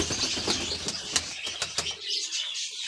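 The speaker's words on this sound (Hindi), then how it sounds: "ये वो कबूतर है और बड़े रिजल्टर थे कबूतर है ये" A pair of pigeons at a rooftop loft give short chirps and flap their wings in a quick cluster of flutters. Nearby open-air ambience fades to quieter background after a couple of seconds.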